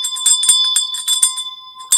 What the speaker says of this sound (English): don't forget to ring that bell.